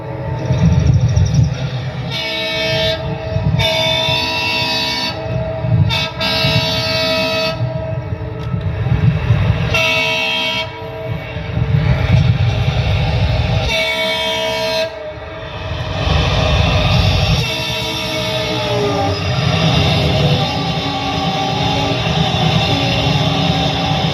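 The Aadhar Express passing close by, a loud continuous rumble and clatter of wagons with repeated horn blasts, no talking.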